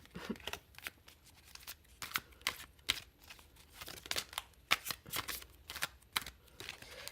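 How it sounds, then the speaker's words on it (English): Tarot cards from The Afro Goddess Tarot deck shuffled repeatedly in quick riffling bursts, crisp papery flutters close up with brief pauses between passes, no voices. "it allows the deck to shuffle like an absolute dream"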